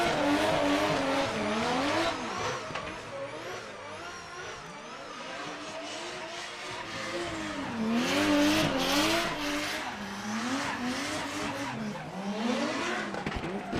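Drift cars at Mondello Park squeal their tyres in long wailing screeches over revving, rising and falling engines, loud and continuous with several cars sliding past.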